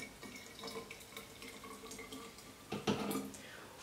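Hot water poured over tea for homemade sugar-free iced tea, a faint trickling stream with a few drips and a louder splash near the end, with no talk.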